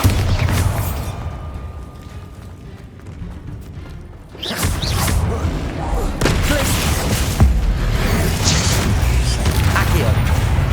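Explosive booms from the Bombarda spell in the game Hogwarts Legacy, a rumbling blast that swells midway and carries on under other spell effects, with a voice speaking over it.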